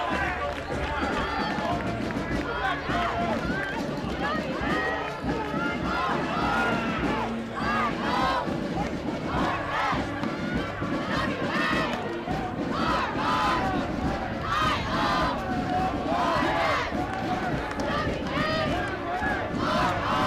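A high school football crowd at a Class MM semifinal between North Haven and Wilton keeps up a steady roar of cheering and shouting throughout, while an announcer talks over it.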